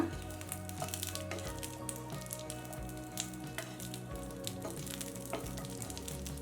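Green chillies roast in a pan over a low flame for ranjaka, giving a soft, steady frying crackle with scattered small pops and faint stirring scrapes, close and continuous, no voices.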